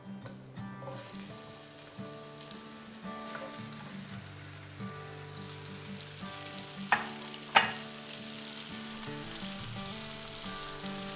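Five sliced apples sizzle and fry steadily in a hot skillet, likely cast iron, for a southern-style fried apple dish, with a couple of sharp clinks partway through and no talking.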